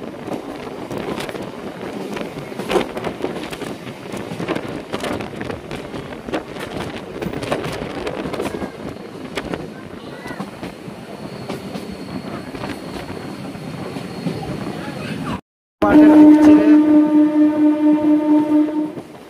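Local train out of Digha gathering speed on the main line, a loud rushing rumble with clattering wheels and wind buffeting the microphone, then a brief dropout before a loud sustained horn blast.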